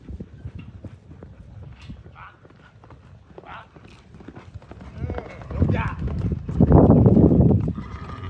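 A mare's hooves clip-clop at a farmhouse, sharp irregular hoof knocks under steady nearby talk, growing louder and busier toward the end as the animal moves closer.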